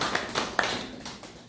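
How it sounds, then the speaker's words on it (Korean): A talk-show audience claps in scattered, uneven bursts, a few sharper hand claps standing out over a soft room wash, with no speech. "박수 한번 칩시다."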